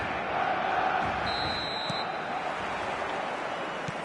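A football stadium crowd in a video game keeps up a steady, broad roar, with a faint whistle-like tone sounding briefly midway through.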